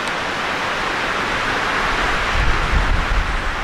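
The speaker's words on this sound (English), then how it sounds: "Wind in the pines." Steady broadband wind rushing through pine trees at a mountain-top spot on the Appalachian Trail in Pennsylvania, a continuous airy roar that swells slightly louder near the end, with no talking.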